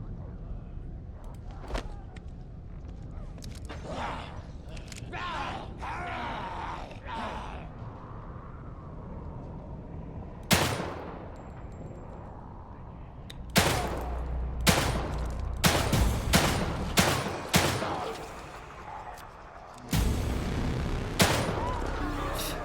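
Gunfire in the survival horror game The Evil Within 2, with a string of loud, sharp shots that grow dense in the second half over a constant rumbling game ambience and creaking sounds.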